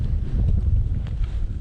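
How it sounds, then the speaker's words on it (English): Wind gusts over the ice while fishing on frozen Mississippi River backwaters, a steady low rumbling buffet against the microphone with no other sounds standing out. "Ooh, there's that wind I was talking about."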